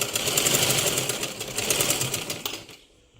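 A sewing machine runs steadily, stitching the side seam of a blouse. The motor hum is close and continuous and rattles for about two and a half seconds, then cuts out.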